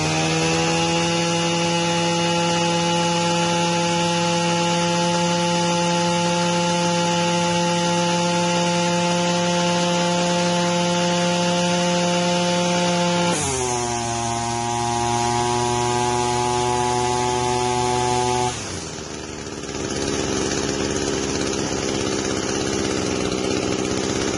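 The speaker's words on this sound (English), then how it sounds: "Now it will rev it up, and you might be able to hear what's going on" An Echo 225 string trimmer's engine runs at a steady buzzing idle, then revs up to a higher, strained pitch before dropping back down. It is close and loud, with no talking.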